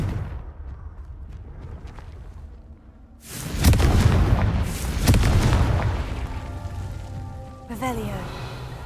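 In the Hogwarts Legacy video game, the Confringo blasting spell erupts in two heavy booming explosions a couple of seconds apart, with a voice talking around them, and a swishing spell effect follows at the end.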